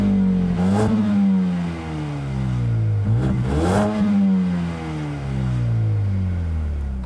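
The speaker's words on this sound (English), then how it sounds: "I'll let you guys hear what that engine sounds like real quick." A 2020 Mercedes-AMG CLA 35 engine revs up twice in quick bursts, pitch climbing then falling back to idle, loud and close with no speech.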